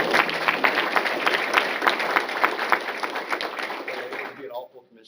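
Applause from a crowd at a full commission meeting, a dense steady patter of many hands clapping for several seconds before tapering off and stopping.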